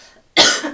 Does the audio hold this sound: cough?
yes